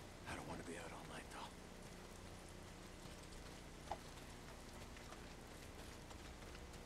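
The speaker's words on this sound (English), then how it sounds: "Not if it's pissing down rain." Steady rain pours down in a video game, a dense, even hiss with no pauses, while a brief sharp tap rises above it near the middle.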